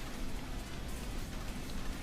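Rain weather effect from a Pokémon video game battle at the PAX Online 2021 Pokémon League, a steady, dense hiss of falling rain that runs evenly throughout with no voices.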